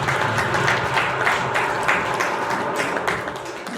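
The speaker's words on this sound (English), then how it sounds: "A round of applause for him." An audience claps at a school reunion awards presentation in Atlanta, a steady wash of crowd applause holding at an even level for several seconds before easing off slightly.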